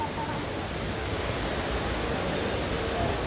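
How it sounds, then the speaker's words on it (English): Continuous splashing and rushing water of the Trevi Fountain in Rome, a steady, fairly loud wash of noise, with faint crowd murmur underneath. "Trevi Fountain"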